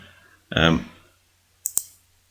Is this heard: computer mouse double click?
yes